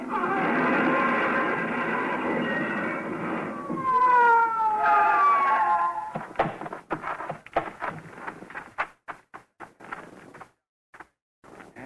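A wailing police car siren rises and falls for several seconds, then gives way to a string of sharp clicks and knocks that grow sparse and stop.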